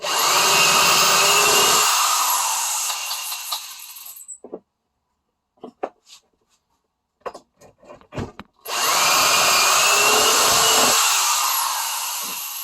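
A power drill bores holes into wood while building a square coffee table: two long, loud whining runs at the start and end, separated by quieter clicks and knocks of handling the bit and workpiece, with no talk.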